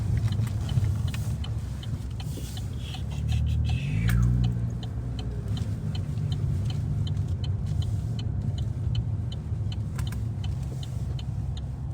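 A V8 petrol car drives along the Great Ocean Road in Australia, giving a steady low engine and road rumble that swells slightly midway, with faint ticking above.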